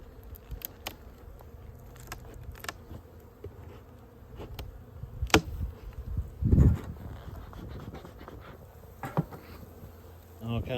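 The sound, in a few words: honey bees buzzing at a winter hive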